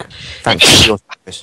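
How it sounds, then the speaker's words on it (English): A loud, close sneeze bursts into a microphone mid-conversation, a sharp explosive blast followed by brief short sounds, with people talking around it. "Maybe let's not sneeze the microphone."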